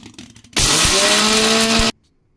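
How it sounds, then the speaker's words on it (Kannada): Kitchen mixer grinder powdering roasted gram, a loud steady motor whine that starts abruptly, runs close for about a second and a half, then cuts off sharply. "ಈ ಹುರುಗಡ್ಲೆ ಹಾಕ್ಕೊಂಡಿದ್ದೀನಿ ಫಸ್ಟು ಪೌಡ್ರ್ ಮಾಡ್ಕೊತೀನಿ"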